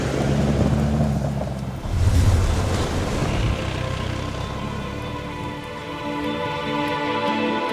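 A Suzuki Grand Vitara crawls across a snowy field with its centre differential locked, giving a steady, close engine rumble over a rushing, crunching wash of snow that swells briefly and then settles into a constant drone.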